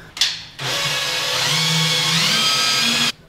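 A power drill drives a screw straight down into a piece of wood, one steady whirring burst of about two and a half seconds that stops abruptly, close and loud.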